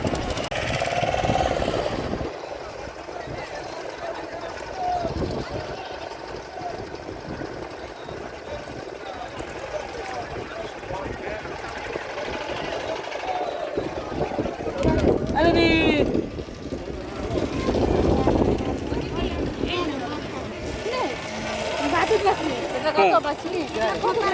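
A steady motor boat engine drones throughout at sea near Talsari beach, with wind buffeting the microphone, while people talk over it.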